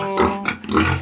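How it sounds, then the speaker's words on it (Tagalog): A pig on a backyard farm gives short, nasal grunts in quick succession, close by and fairly loud, with no talking over them. "Hi baboy! Hi Piggy, hello"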